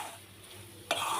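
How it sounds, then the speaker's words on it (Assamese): Maida flour being stirred and fried in a pan for halwa, a soft continuous scraping sizzle close by that turns louder and brighter near the end, with no talking. "মই যিহেতু অলপ কম ৰঙা কৰোঁ, সেইকাৰণে অলপ কম ৰঙাকৈ মই ভাজিছোঁ ময়দাটো।"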